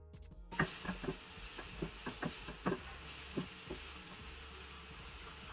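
Finely chopped onion sautés in a pan with a steady low sizzle, punctuated by a series of sharp utensil taps and scrapes spaced irregularly throughout, all fairly quiet with no talking.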